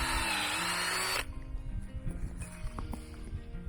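A power drill boring a tap hole into a maple tree whines loudly for about a second, then stops, leaving faint knocks and rustling.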